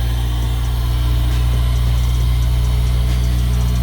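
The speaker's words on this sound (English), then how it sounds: "Man, that intake is loud." A Honda S2000 engine idles steadily with its front bumper removed, the intake loud and close, a constant low rumble with slight vibration and no voices over it.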